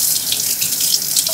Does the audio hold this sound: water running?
yes